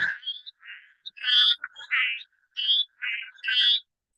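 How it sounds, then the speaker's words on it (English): A cricket frog from Karnataka calls in a series of high, rattling, insect-like chirps and clicks, repeated in short bursts with brief gaps, close and clear against silence. "They would sound something like this, almost like an insect. So hence the cricket frog."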